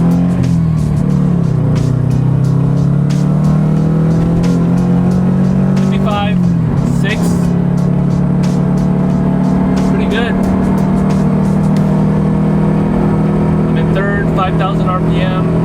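A 2016 Scion FR-S engine pulls hard and shifts at high RPM, its loud droning exhaust note rising and dropping through gear changes, heard close from inside the car with someone talking over it.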